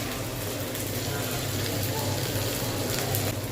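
Ginger-garlic paste, chili and turmeric sizzle in hot oil for a dried fish curry, a steady close hiss of frying with faint scraping underneath.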